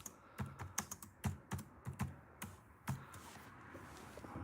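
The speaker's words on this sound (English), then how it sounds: "Let me learn how to type." Fingers typing on a computer keyboard at close range, with irregular, quick keystrokes clicking in uneven bursts and short pauses, and no voices.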